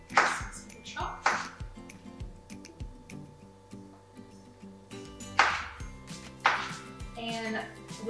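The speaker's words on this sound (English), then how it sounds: "we're gonna just cut this in strips, just like the onion" A knife chops bell pepper into strips on a cutting board, producing a series of sharp, close knocks spaced irregularly, with a person talking between and over the cuts.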